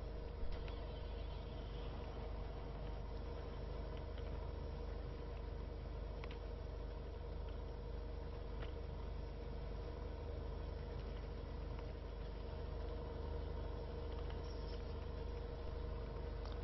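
Tractor engine running steadily in the video game Farming Simulator 15, a continuous low droning idle with an even hum and no variation, fairly quiet and without speech.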